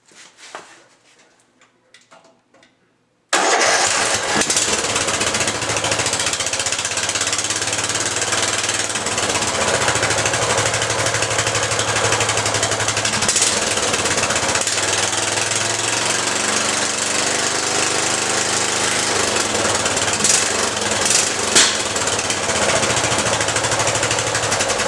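A lawn mower engine, recently rewired with a key ignition, starts after a few seconds of quiet handling noises, then runs steadily at a loud, rough, constant idle for the rest of the time.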